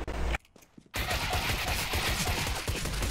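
Counter-Strike gunfire, dense rapid automatic shots crackling continuously after a short quiet break, loud and close with no talking over them.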